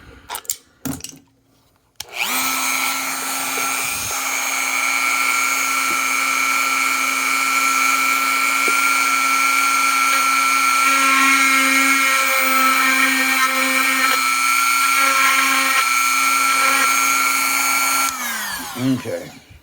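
A high-pitched rotary tool whines steadily for about sixteen seconds while milling a pin chamber in a lock, with slight changes in pitch as it cuts, and then spins down. No one speaks.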